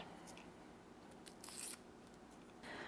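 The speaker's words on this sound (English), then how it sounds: "I'm gonna go ahead and cut this aerial root." Pruning shears snipping through a Monstera Burle Marx Flame aerial root, a short crisp cut close to the microphone against a quiet background.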